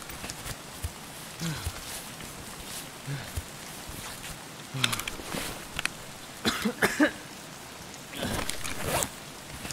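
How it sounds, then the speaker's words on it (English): Steady rain hisses across the Interchange map in the shooter game Escape from Tarkov, a constant broadband wash punctuated by scattered thumps, rustles and clicks from gear and movement nearby. "That rain's pretty irritating."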